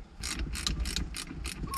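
Shift rod coupler being loosened on a Porsche 356C, a series of about six quick metallic ratcheting bursts in an even rhythm, close and moderately loud, with no voices.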